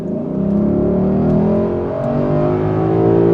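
Loud, steady roar of a Lexus LC500 naturally aspirated 5-liter engine revving hard and holding high, with a rising and falling growl throughout.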